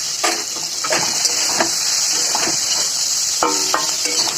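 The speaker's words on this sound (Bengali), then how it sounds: "একটু ভেজে নেবো" Ginger with salt and turmeric frying in oil in a pan for a Bengali cauliflower, potato and small fish curry, giving a steady close sizzle broken by a few stirring scrapes and light utensil knocks.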